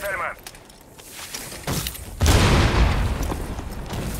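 A deep boom of grenades erupts partway through, followed by rumbling, crackling debris over busy game sounds in the video game Rainbow Six Siege, loud and close.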